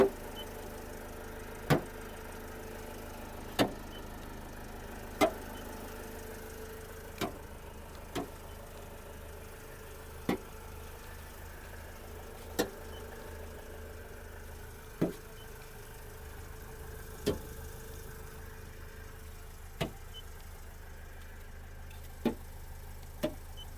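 A Renault Trafic van's engine idles with a low, steady hum, punctuated by regular sharp ticks roughly every couple of seconds, heard alone without voices.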